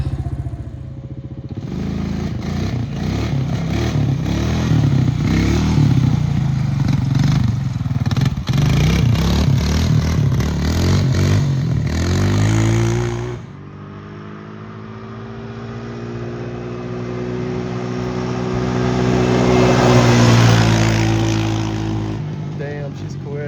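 A Honda Rancher 350 quad's engine revs loudly while being ridden, a rough buzzing drone that rises and falls, then shifts pitch as it moves off and returns; people talk over it.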